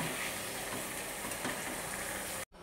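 Spices sizzling in a hot pan, a dense, even crackle and hiss held steady throughout before cutting off abruptly at the end.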